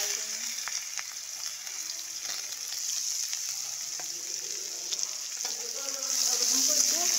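Onion, green chili and garam masala sizzling in hot oil for a corn curry, a steady close crackling hiss that swells louder toward the end, with no talk.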